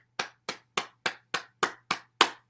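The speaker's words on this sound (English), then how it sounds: "So now we'll clap our hands." Eight crisp, evenly spaced hand claps at a steady rhythm during a morning bouncing exercise session, each sharp and close with a short decay, and a faint low hum underneath.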